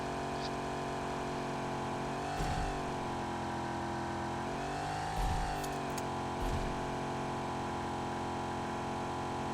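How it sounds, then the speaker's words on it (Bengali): A buggy engine in PUBG Mobile drones steadily with a few rising revs, the engine pitch swelling and falling as it drives, loud and close with no talking. "আরে ও বাগি নিয়ে চালাচ্ছে"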